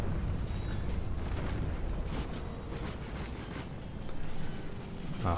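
Cannon fire and explosions in Total War Empire, a dense rolling rumble of repeated booms and bursts, layered and distant-sounding, continuing steadily at moderate level.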